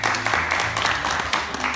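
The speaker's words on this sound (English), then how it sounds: "Will you give her a round of applause?" Audience applause at an Argentine tango class after a dance demonstration, a dense, steady patter of many hands clapping close by throughout.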